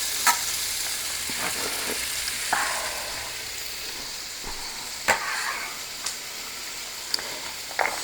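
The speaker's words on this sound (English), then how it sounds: "Then you're going to put your onion in so it kind of gets a little bit of color to it there." Onion frying in a pan, a steady low sizzle with occasional stirring and scraping sounds, close and alone with no talk.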